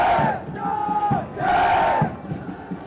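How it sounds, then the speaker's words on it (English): Cadets at a National Defence Academy passing out parade give two loud, drawn-out cheers in unison, each swelling and fading, with a short gap between them and nobody speaking over them. "They cheer the cadets of the passing out course"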